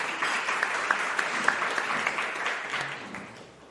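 Audience applause for panelists being seated at a climate solutions forum, a steady wash of many hands clapping that holds evenly, then slowly thins and fades toward the end.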